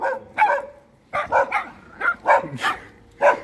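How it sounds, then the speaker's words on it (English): Several hounds bark and yelp in quick, irregular bursts, some higher-pitched and whiny, close by with short pauses between. "Oh, the hounds are barking."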